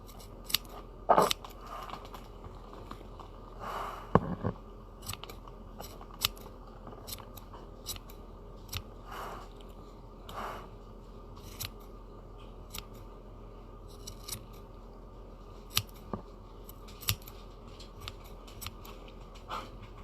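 Scissors snip repeatedly while trimming a yarn craft teddy, quiet close-up crisp cuts coming irregularly, some in quick pairs, over a soft room background.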